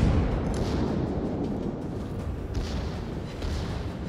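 Heavy battleship gunfire in World of Warships, aimed at the Massachusetts, heard as a dense, rumbling low roar of cannon blasts rolling continuously through the moment with no clear gaps, fairly loud and without speech.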